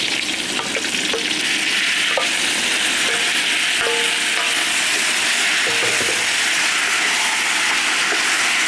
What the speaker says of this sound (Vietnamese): Bò mình xào cho miếng thịt nó săn nè